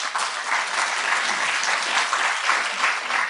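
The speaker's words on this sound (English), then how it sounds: "A lot of applause for them." An audience in a university hall applauds civil society actors, giving steady, dense clapping at moderate level without speech.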